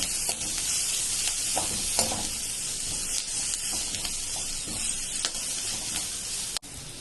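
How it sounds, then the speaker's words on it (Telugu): Onions with turmeric and garam masala are stirred in a hot pan, giving a steady sizzling fry with repeated scraping strokes of the spoon, close and continuous, with no talking. "ఈ మూడు బాగా కలుపుకోవాలండి, ఉల్లిపాయలు బాగా పట్టినట్టు."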